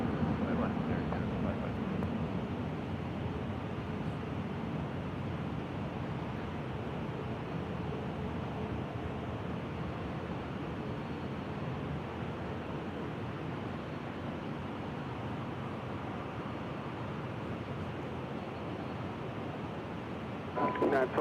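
An Air Canada airliner lands on runway 24 right at Los Angeles International Airport, heard as a continuous broad jet roar that holds steady at a moderate distance for the whole stretch.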